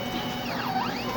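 A DTF printer works through a head cleaning cycle: a brief, close mechanical whir whose pitch sweeps down and then back up, over a faint motor hum.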